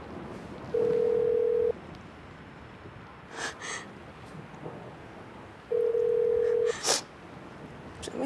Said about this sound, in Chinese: 您拨的电话无人接听，请稍后再拨。